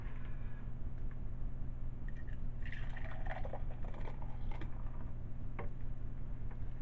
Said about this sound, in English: so I can pour some more